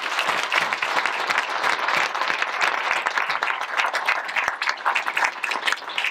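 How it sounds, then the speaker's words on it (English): An audience at a community school security forum gives a sustained, steady round of applause that fills the space with dense clapping throughout. "I'd like to give him a big round of applause for that"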